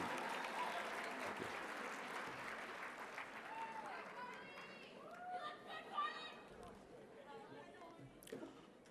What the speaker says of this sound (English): let's give a round of applause to our class officers and advisors to the class of 2019.